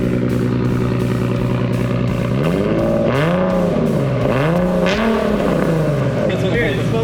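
Nissan 370Z with a loud exhaust idling, then revved in several sharp blips that rise and fall in pitch, close and loud throughout.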